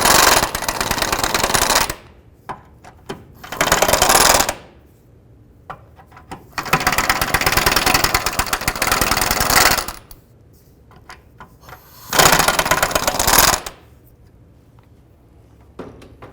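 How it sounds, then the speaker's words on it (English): Bolts on the differential mounting bushings of a 2005-10 Jeep Grand Cherokee being loosened with a power impact tool: loud, close bursts of rapid rattling hammering, three long runs separated by quieter clanks and pauses, no talking. "I'm going to go ahead and loosen these bolts a little bit more."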